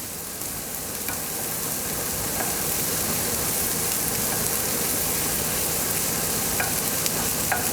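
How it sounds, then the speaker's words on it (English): Onion frying off in a pan while cooking chilli steak, giving a steady, dense sizzle that holds level throughout with occasional faint scrapes of stirring and no talking. "When you cook an onion, you fry an onion off like this."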